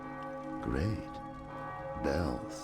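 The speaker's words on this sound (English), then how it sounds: "Bells. That's always good." Bells ring in the video game Hellboy: The Science of Evil, sounding as faint sustained tones with two swelling, wavering surges that rise and fall.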